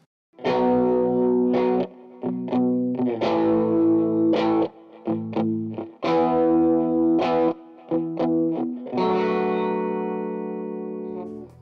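An electric guitar played through a Fender Blues Junior tube amp with a Celestion Greenback speaker, strummed chords and single notes ringing out with a warm, slightly driven tone and some reverb, no voices.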